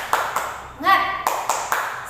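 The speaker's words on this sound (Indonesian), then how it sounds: "kita tepuk semangat dulu yuk" Sharp claps land in a steady rhythm, one after another, with a short voiced call breaking in midway; close and fairly loud.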